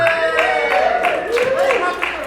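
Audience applause with cheering at a live stage show at a furry convention, a steady wash of clapping and whoops filling the whole stretch, with voices calling out over it.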